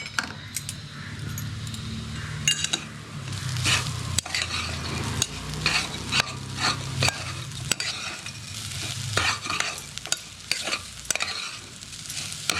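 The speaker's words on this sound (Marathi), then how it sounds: "चांगलं गोल्डन ब्राऊन होईस्तोवर आपण भाजून घेणार आहोत" Sesame and poppy seeds dry-roasting in a pan toward golden brown, with a steady close crackle and repeated scraping strokes of a spoon stirring them, no talking.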